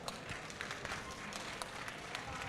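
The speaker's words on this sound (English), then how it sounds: "let's give them another round of applause" Audience applause at a League of Legends gaming event at EGX 2014, a brief burst of steady clapping from a crowd in a hall, moderately loud and continuous.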